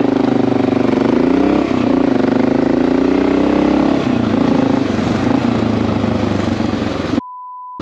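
A motorcycle engine runs steadily and loud up close, its mid-range drone holding with slight revving for about seven seconds before cutting off abruptly into silence.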